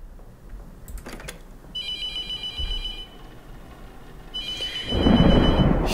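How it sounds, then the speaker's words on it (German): A telephone rings in the horror game The Mortuary Assistant, two bursts of an electronic trilling ring separated by a pause, with shuffling and thumps and a louder rumble during the second ring. "auf einmal klingelt das Telefon wieder"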